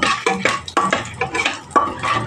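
Whole cinnamon and lightly cracked cardamom frying in oil over a low gas flame, with a soft sizzle broken by repeated scraping strokes and clinks of a spoon against the pan, steady and close, no voices.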